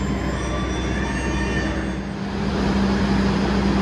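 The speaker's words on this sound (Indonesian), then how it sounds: "Berangkat kereta Parsel Tengah dari stasiun Madiun." Parcel train departing Madiun station, a continuous heavy rolling rumble with a sustained wheel squeal rising toward the end, loud and close, with no voices.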